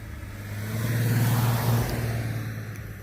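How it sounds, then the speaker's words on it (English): A car on a country road beside a former hay field, its engine growing louder as it approaches, peaking as it passes close and then easing off. "there's a car coming"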